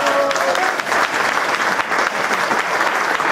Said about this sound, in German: Einmal einen kräftigen Applaus für die Eva.